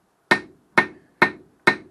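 A hammer strikes hot 3/8 round steel stock four times at an even pace while forging wall hooks, each blow a sharp, close, ringing clang that quickly decays.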